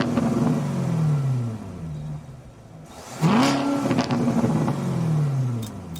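A car engine revs in a racing video game, a loud rising and falling roar with a sharp surge midway, then sweeping pitch changes as it accelerates.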